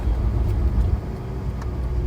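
A Ferrari F80 sports car engine rumbles steadily nearby, a continuous low drone with faint intermittent higher bursts.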